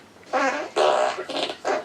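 Several drawn-out, wavering farts in a row, each a buzzy, sputtering burst lasting a fraction of a second, fairly loud and close with brief gaps between them and no talk.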